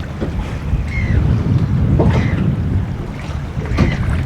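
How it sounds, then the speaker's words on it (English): Steady wind gusting over open water heard from a boat out fishing for mackerel in the Solent, a continuous loud rushing roar with microphone buffeting and faint wave wash, no voices. "wind's coming up now from the south"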